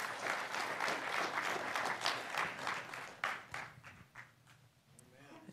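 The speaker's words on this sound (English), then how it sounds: "Let's give God a round of applause this morning." Church congregation applauding during a Sunday morning worship service, a steady wash of clapping that fades out over several seconds, with a few scattered claps near the end.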